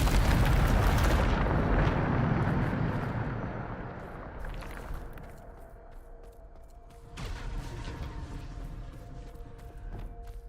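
A Depulso force spell from the Hogwarts Legacy video game goes off as a big roaring burst that slowly dies down, followed by a second, smaller rumbling blast.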